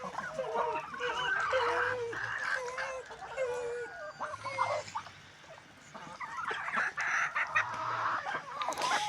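Several hens, including Cochin hens, cluck and chatter steadily nearby at evening feeding, with a rooster's crow rising briefly among them in an outdoor yard.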